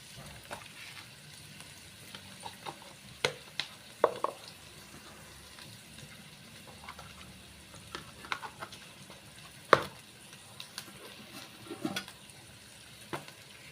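Cumin seeds sizzle softly in hot oil for a simple potato bhaji, a faint continuous frying hiss broken by scattered sharp clicks and scrapes of stirring.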